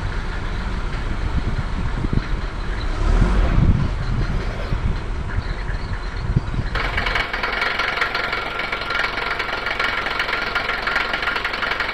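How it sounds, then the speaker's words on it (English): A Mercedes 190 2.2 diesel engine idles close by after a cold start with a rough, knocking clatter; the tone shifts partway through to a brighter, busier rattle that continues steadily. "It's loud on cold start as it is,"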